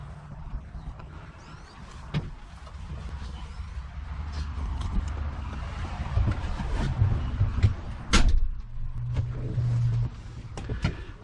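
A Ranger utility vehicle grinds through mud on a hillside, with a steady engine drone and creaks and bumps rising and falling, plus a few sharp knocks and no talk.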